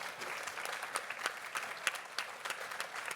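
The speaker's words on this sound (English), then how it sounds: "Round of applause if I may." Applause from a breakfast briefing audience closing a panel session, a moderate, fairly distant patter of many hands clapping with individual claps popping out irregularly.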